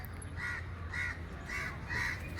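Crows caw in Cubbon Park, giving four evenly spaced, harsh calls at a moderate distance over steady outdoor background noise.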